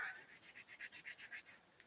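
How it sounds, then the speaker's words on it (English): Light hand sanding with 400 grit sandpaper on a plastic Gundam model part, heard as a close, quiet run of about ten rhythmic rasping strokes with no talk. "I'm giving this a light initial sanding to make the edges more uniform"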